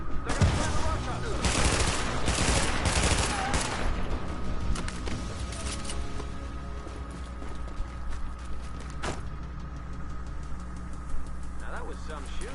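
Gunfire in The Division, with repeated bursts of shots and rapid volleys cracking early on, then thinning to scattered shots over a constant background rumble. Voices are heard at times.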